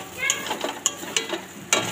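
Dry curry leaf tempering (tadka) stirred into dal for semolina khichuri, with light sizzling and a few sharp metallic clinks of a spoon against the pan, close and brief.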